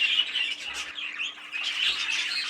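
Budgerigars in breeding cages in a bird shed chatter and squawk continuously, a dense, busy flock of close chirps and squeals with no pauses and no talking.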